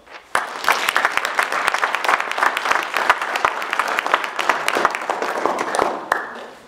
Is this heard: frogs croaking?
no